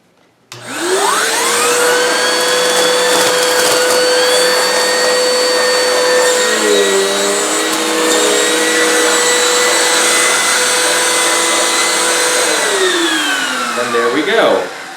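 A Bissell CleanView OnePass vacuum runs its turbo brush over scattered toasted oats, giving a loud, sustained motor whine with a brief dip in pitch midway, then winding down at the end.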